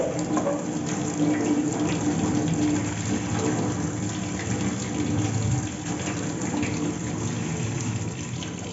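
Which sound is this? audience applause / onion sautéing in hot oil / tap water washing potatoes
tap water washing potatoes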